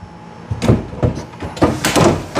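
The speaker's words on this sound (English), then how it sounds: "Put your drawer box in." A wooden drawer box slides into a cabinet during cabinet building, a few quick close scraping slides and knocks in a short burst, with no talk.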